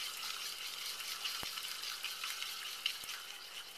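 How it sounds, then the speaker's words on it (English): Dry cocoa powder and salt, along with Nutella, are whisked together in a bowl, giving a steady, faint, scratchy swishing with a couple of light taps against the side. "I'm just going to whisk this all together."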